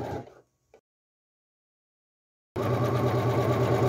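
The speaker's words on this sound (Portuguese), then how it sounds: "Vou até o final, arremato e finalizo com a costura." An electric sewing machine stitches the side of a fabric slipper, a steady, close mechanical whir that starts abruptly after a stretch of silence and a brief earlier burst.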